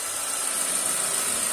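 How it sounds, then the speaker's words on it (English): A 2015 Mercedes radiator cooling fan stuck running at full speed, with an A/C fault: a steady, loud whirring whine that holds constant throughout, with no voices. "it run at full speed, as you can see. Fan keep increasing speed."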